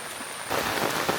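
Rain falling steadily at a dog kennel in the Malnad hills, a soft hiss that swells louder after a quiet start, with no voices.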